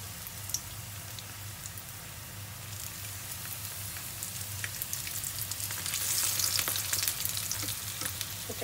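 Quail egg wontons frying in hot oil, a steady soft crackle and sizzle throughout with scattered pops, growing slightly louder near the end, with no voices.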